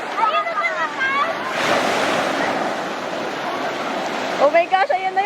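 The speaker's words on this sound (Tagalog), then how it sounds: "ayan na yung alon." Surf breaks and washes up the beach at Camaya Coast, one loud surge swelling in the middle and a steady wash of water behind it, with voices chattering close by at the start and end.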